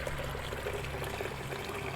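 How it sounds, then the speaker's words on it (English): Liquid carrying light ashy residue from processed IC chips is poured off into a catch bucket in a steady, continuous stream with a constant trickling wash throughout. "I'm going to pour off the liquid into this bucket"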